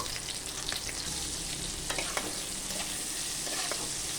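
Ginger, melon seeds and tomato frying in a pan, a dense continuous close sizzle with occasional light stirring clicks, no voices.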